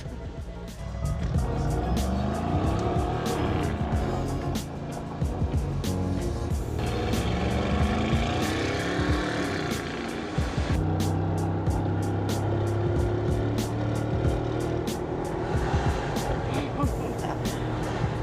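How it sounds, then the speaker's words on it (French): Traffic on a Dubai street, with a car engine rising and passing close and loud amid a busy city hum, sharp clicks and knocks, and other vehicles, while people talk over it. "Ça, c'est de la bagnole."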